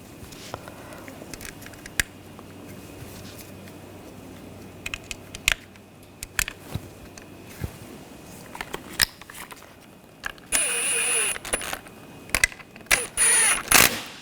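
Screws are started and tightened while a window motor is fitted to the regulator of a 2000-2006 BMW X5, giving scattered close clicks and taps, then louder ratcheting and buzzy driver bursts toward the end.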